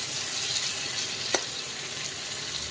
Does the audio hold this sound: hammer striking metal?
no